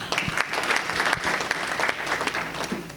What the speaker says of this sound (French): je demande à l'assistance de l'applaudir